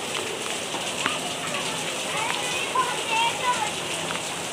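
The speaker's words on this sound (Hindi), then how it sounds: "बारिश स्टार्ट हुई" Rain falls steadily on an empty street, a dense, even patter of drops hitting the ground at close range that continues throughout.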